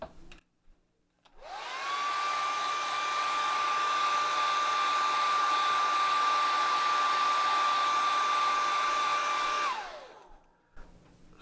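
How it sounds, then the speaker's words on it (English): A hair dryer switches on and blows steadily with a loud, even whine for about eight seconds, then winds down and stops. "Blow dryer."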